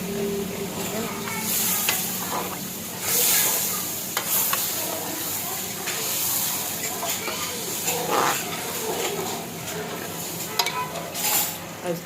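Mutton stock and rice simmer in a cooking pot for mutton pulao, giving a steady sizzle with intermittent scraping and light metallic clinks of a utensil against the pot.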